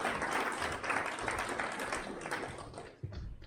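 An audience at a panel discussion applauds a speaker's introduction, a dense wash of clapping that stays steady before gradually thinning and fading out.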